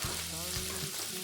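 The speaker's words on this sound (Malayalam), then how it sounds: "കുറച്ച് എണ്ണ ഒഴിച്ച് ഈ മത്തിയെല്ലാം കൂടെ നമുക്കൊന്ന് വറുത്ത് കോരി എടുക്കാം" Small sardines (mathi) fry in hot oil for a Kerala seafood lunch, giving a steady close crackling sizzle with faint bubbling and stirring, with no voices over it.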